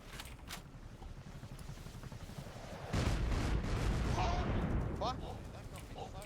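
In the game Rust, a patrol helicopter's rocket run sets off a sudden heavy blast midway that rumbles on loudly over a low roar of gunfire and engine noise, with scattered sharper cracks before and after.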